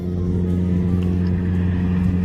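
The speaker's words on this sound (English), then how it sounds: "Car sounds good, that Toyota." A steady, loud Toyota race truck engine rumble with strong low harmonics holds throughout, running close by during an off-road desert race in Mexico, with no pause or fade.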